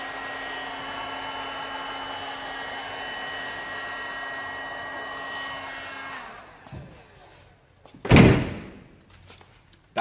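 Heat gun blowing a steady hot-air roar over a chrome vinyl wrap on a car fender, cutting off after several seconds, followed by a couple of nearby thumps and handling bumps.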